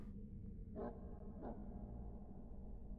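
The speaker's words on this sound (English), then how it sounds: "Yep, he's just barking at you." A dog barks in the Haunt video game, two short barks about half a second apart over a steady low rumbling background.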